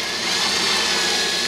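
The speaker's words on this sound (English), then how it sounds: "I'm going to drill a 3/16 hole because I want this thing to fit in there really tight" A power drill bores a 3/16 inch hole in an incubator box, a loud, steady high whine held close for the whole short moment.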